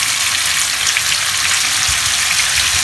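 Masala with Kashmiri red chili powder and turmeric roasting in a pan over a medium-high flame, a loud, dense, continuous sizzle like heavy rain that stays even throughout with no voices.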